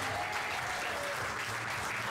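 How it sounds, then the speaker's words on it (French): Sustained applause from a comedy club audience at a stand-up show, honoring the night's comedians; a steady, dense wash of clapping that fills the whole stretch at moderate level without pause. "J'aimerais qu'on fasse un tournoi d'applaudissements s'il vous plaît"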